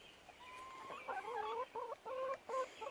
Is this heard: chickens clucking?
yes